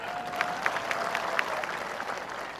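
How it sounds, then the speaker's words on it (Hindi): A crowd claps at an outdoor political rally in a small Madhya Pradesh town, a steady dense patter of many hands with a few sharper claps standing out, continuous and fairly loud throughout. "बजा ताली।"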